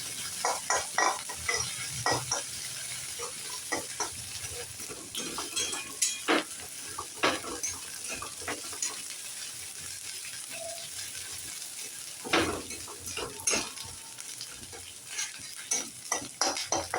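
Garlic frying in a pan, sizzling steadily up close while a utensil clinks and scrapes against the metal in irregular bursts, with no talking.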